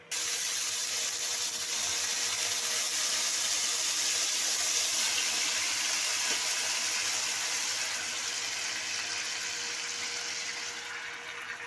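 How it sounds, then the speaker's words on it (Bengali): Marinated mutton hits hot mustard oil in a pan and a loud, steady sizzle follows, a broad hiss that holds for several seconds and fades slightly at the end, with no voices. "সর্ষের তেলটা গরম হয়ে গেছে এবার আমি দিয়ে দেব মেখে রাখা মাংসটা"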